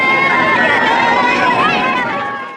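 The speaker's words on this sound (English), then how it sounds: "Pay attention to the noise of the crowd in this scene" Crowd noise from a war film scene in Come and See: a loud, dense babble of many voices and chatter, continuous throughout and fading slightly at the end.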